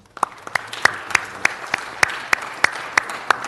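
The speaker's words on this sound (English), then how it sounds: "I want to give a round of applause to Mr. Soboroff and the Police Commission" Applause from the audience at a city council meeting, steady hand claps with sharp regular peaks, fairly close and moderately loud, with no talking over it.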